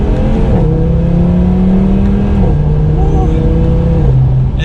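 An Audi TT RS accelerates hard through a turn, its engine note climbing in pitch, dropping at a gear change and climbing again, loud and close from inside the car.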